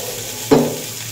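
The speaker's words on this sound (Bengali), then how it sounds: "কয়লার উপরে একটু সাদা তেল দিয়ে দেবো।" White oil dropped onto burning charcoal in a bowl, beside paneer tikka, flares into one brief, loud sizzle that quickly fades.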